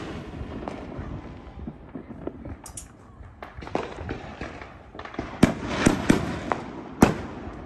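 Pre-sunset fireworks crack and pop in irregular bursts, a scatter of sharp reports that grow louder and denser toward the end, heard outdoors at a distance with no talking.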